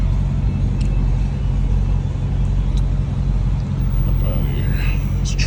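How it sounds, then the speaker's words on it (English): Road traffic on a busy street heard from inside a moving vehicle: a steady low rumble of passing cars with brief higher whooshes, continuous and fairly loud under the cabin noise. "traffic is everywhere, my God."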